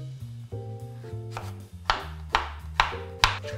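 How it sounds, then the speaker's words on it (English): A knife roughly chops courgette on a board for a vegan curry, a handful of sharp, fairly regular cuts close by, set against a sustained musical backing with no talking. "So just roughly chop up your courgette."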